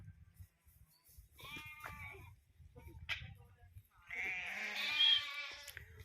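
Young sheep and goats left behind in the hills bleat in scattered, wavering cries, a couple of short calls and then a longer, louder bleat, over quiet outdoor background noise.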